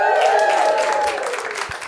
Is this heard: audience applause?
yes